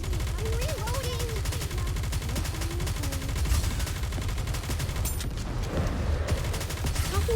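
Rapid automatic gunfire rattles continuously in the mobile shooter game Nikke: Goddess of Victory, dense and steady throughout, mixed with game music and effects.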